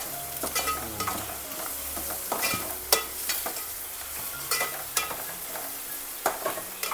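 Crushed garlic and onion frying in a pan for kaleji (liver) fry, a continuous sizzle broken by repeated clanking spoon strokes against the pan, close and with no talking.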